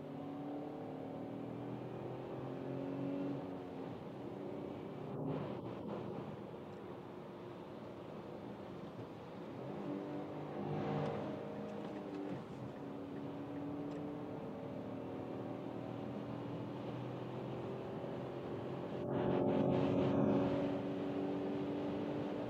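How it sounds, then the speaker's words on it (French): Wind rushing over a 2025 Dacia Duster at speed on a German autobahn, a steady broad roar inside the cabin with engine and tyre hum beneath, swelling slightly now and then, no speech. "on peut entendre aussi le bruit du vent en soufflant sur la voiture"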